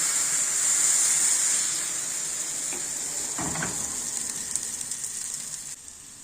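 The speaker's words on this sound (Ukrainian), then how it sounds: "Сковорідку розігріваємо, змащуємо її олією і розпочинаємо пекти." Pancakes frying in a heated pan greased with oil, a steady broad sizzle that is loudest at first, then eases, with a brief louder crackle partway through and no voices.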